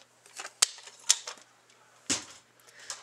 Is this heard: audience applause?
no